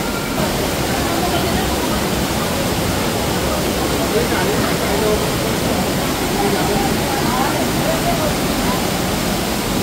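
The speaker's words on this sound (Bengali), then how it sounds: "দেখো জলের আওয়াজ দেখো কিরকম।" Flowing water at Panchalingeswar temple, a loud continuous rushing roar, dense and unbroken for the whole stretch, with a voice speaking over it.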